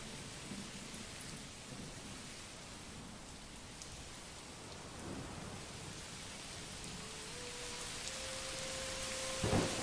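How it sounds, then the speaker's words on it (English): A broad wash of steady rain with low rumbling thunder fills a thunderstorm in the medieval city builder Manor Lords, swelling slightly toward the end. "Oh, got a storm."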